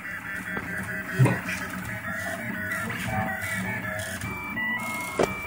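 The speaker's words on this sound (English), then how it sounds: "But it's printing the Minecraft creeper guy." A Rostock MAX 3D printer prints a Minecraft creeper figure, its stepper motors making soft whirring and buzzing tones with small clicks, steady and close, with faint background noise.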